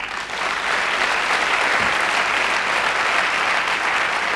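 Loud, sustained applause from a seminar audience, a thick wash of many hands clapping at once, steady and close from start to finish with no talk over it.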